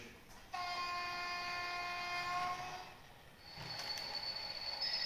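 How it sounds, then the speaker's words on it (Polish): Model railway locomotive on an EP08 express layout gives a sustained horn blast with bright harmonic tones, then a second higher electronic horn tone after a brief dip, loud and alone. "A lokomotywa coś tam sobie skrzyczała."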